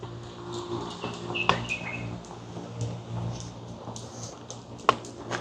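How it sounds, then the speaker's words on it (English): Birds chirp at night during an outdoor walk, a few short, sharp calls scattered over a low, steady background hum, one louder chirp near the start and another near the end. "Also, there's some weird bird noises coming."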